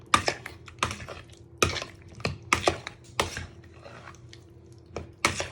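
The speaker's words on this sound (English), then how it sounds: "You just want to give them a big stir with your fork." A fork stirs eggs, vegetables, chorizo and potatoes for a Spanish tortilla, clinking sharply against the bowl in irregular close taps with soft wet mixing between them and no talking.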